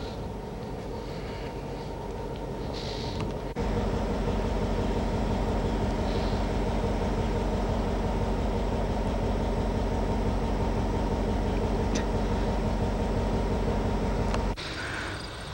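A freight train's diesel locomotive rumbles steadily at a station in Lacona, a low, constant drone that grows louder partway through and then drops back, with faint clanks and no talking.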